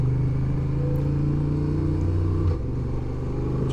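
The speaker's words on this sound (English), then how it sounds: "I know the engine brake's working. I can hear it. I let off the throttle," A Honda Transalp motorcycle engine hums steadily and loudly on a gravel road, then its tone drops as the throttle is released and engine braking begins.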